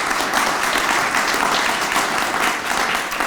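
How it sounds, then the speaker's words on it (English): A press-event audience at a project announcement with Saint Vincent Hospital and Gannon University gives steady, dense applause that holds evenly throughout, with no speech over it. "How about a big round of applause?"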